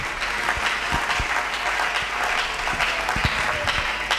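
A church congregation applauds loudly during a sermon, with dense, continuous clapping from many hands that holds steady and close throughout.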